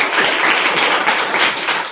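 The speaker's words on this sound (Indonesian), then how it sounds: "Bagus, tepuk tangan dulu." Grade 5 students in a civics classroom clap their hands together in a loud, dense burst of rapid overlapping claps that lasts about two seconds.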